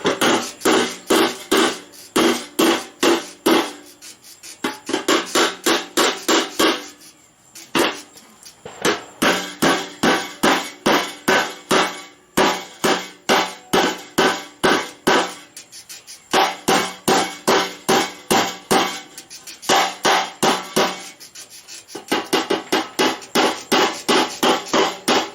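Metal panels on the gas tank of a rotten 1956 chop-top oval VW Beetle take rapid, loud, close hammer blows. They come in long rhythmic bursts of evenly spaced strikes with short pauses between runs.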